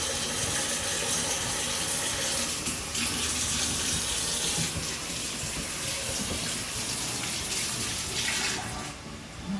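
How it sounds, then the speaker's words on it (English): Water runs steadily from a kitchen tap while hands are washed beneath it, a continuous close splashing rush that eases slightly near the end, with no talking. "Okay, now my hands are dirty, so I must wash them real quick."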